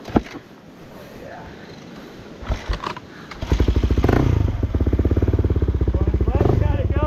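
A dirt bike that was drowned in a river is kicked over with clunks and scrapes, then catches and runs as a loud, close, rapidly pulsing engine idle for the final few seconds.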